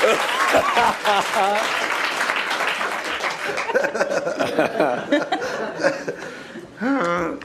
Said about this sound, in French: Ça a été noyé dans les applaudissements